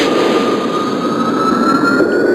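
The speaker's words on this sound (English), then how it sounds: "I'm just going to turn on the main jet engine as it's supposed to be." A loud, steady video game jet engine roar from Kerbal Space Program with a high whine running over it, constant and unbroken throughout.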